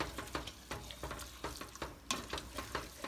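Rhythmic, close stirring of a thick macaroni and cheese mixture, with repeated soft wet scrapes and squelches at a steady pace, fairly quiet.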